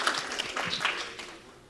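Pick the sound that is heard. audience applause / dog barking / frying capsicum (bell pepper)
audience applause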